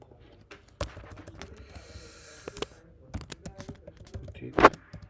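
Computer keyboard typing while writing HTML code, with scattered separate key clicks and one louder tap near the end, close by and fairly quiet, with no talking.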